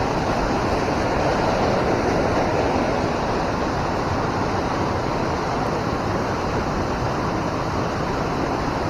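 Water rushes over the Fox River spillway in a loud, steady roar that stays unbroken and fills the whole clip, with no voices.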